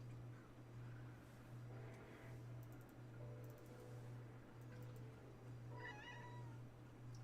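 Faint meowing from a cat comes in several short calls, with the clearest one near the end, over a steady low hum and a few keyboard-like clicks.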